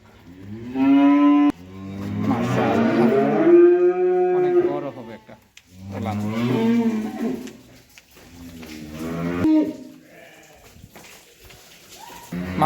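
A pregnant heifer and other cattle at a farm give several long, loud moos with pauses between them, while someone talks alongside.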